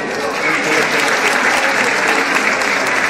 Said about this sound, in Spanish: El aplauso para las 4 participantes